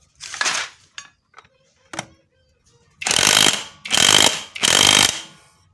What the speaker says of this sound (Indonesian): kita pasang murnya, mur 17. Oke, ini kita kencangkan.